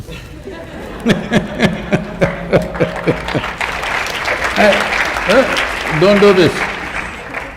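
A university lecture audience claps loudly in close, rhythmic bursts for a few seconds, then the applause thins as a speaker talks and scattered laughter and chatter rise from the hall.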